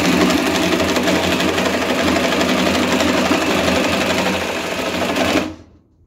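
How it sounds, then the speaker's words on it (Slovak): Parkside Performance PSSPA 20-Li A1 cordless jigsaw running steadily at close range with a loud continuous buzzing saw motor for about five seconds, then cutting off abruptly as it stops. "vyskúšame si priamočiaru pílu Parkside Performance"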